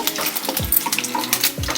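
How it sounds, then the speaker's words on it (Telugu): Mustard seeds crackle and pop steadily in hot oil for a brinjal curry, a dense close-up sizzle with scattered sharp snaps and a couple of low knocks. "ఇప్పుడు పోపు గింజలు చిటపట్లాడుతున్నాయి."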